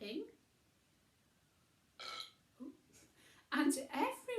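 A voice imitates a toad's burping during a silly bedtime story, with several exaggerated burp sounds in separate bursts between quiet pauses, loudest near the end.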